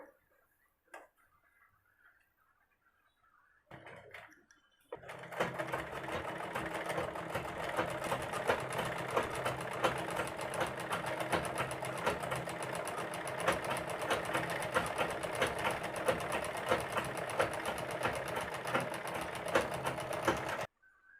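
An electric sewing machine stitching collar buckram onto kurta fabric in a single straight seam: a brief start, then a long steady rapid mechanical whir with ticking needle strokes, close and continuous before stopping.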